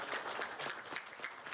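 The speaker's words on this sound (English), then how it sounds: "Let's give them a round of applause." Audience applause greets a lineup of gamers on stage at an RPG Limit Break 2026 gaming marathon finale, a steady wash of many hands clapping at moderate distance with a faint murmur of crowd beneath.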